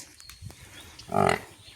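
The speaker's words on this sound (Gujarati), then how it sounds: "બરાબર જો બોલવા મંડી છે" A single short, low moo from a nearby female water buffalo on a farm rises briefly over quiet outdoor background.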